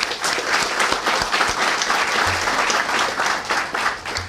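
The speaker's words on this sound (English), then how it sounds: "I'd like to applaud you for that" Audience applause fills the room at a community event on citywide violence intervention in Chicago, a steady wash of many hands clapping at close range, holding strong for the full stretch.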